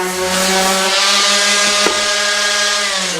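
Power sander working the wood of a Bluetooth speaker box, a loud, steady whining drone with strong harmonic lines that runs unbroken throughout, with one brief sharp knock near the middle.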